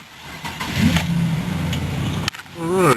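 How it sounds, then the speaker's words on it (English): A car cold-starting in December: steady low engine cranking and rumble builds, breaks off briefly, then catches and revs up loudly near the end, close by. "Oh, let's start it up."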